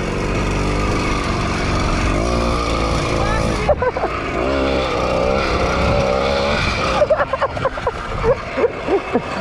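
Motorized bicycle engine revving hard during a wheelie, a loud, raspy two-stroke buzz that rises and falls in pitch. It drops off partway through, then sputters back in choppy bursts. Voices and shouts of people nearby come through.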